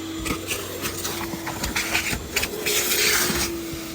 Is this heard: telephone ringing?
no